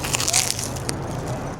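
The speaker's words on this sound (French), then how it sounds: "Le pain est croustillant." Crispy bread from a Xi'an street food stall being bitten and chewed close to the mic, a burst of dry crunches at first that thins into softer crackling chews.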